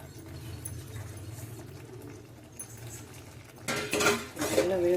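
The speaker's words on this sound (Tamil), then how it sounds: "கொஞ்சம் கொஞ்சமாக சேர்த்து எல்லாம் நல்லா ஒன்று சேர கிண்டிக்கோங்க" Mango rava kesari with ghee is stirred in a pan: a spoon scrapes and clinks against the metal, soft at first and then louder and busier near the end.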